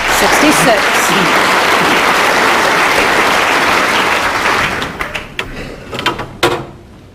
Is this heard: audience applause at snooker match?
yes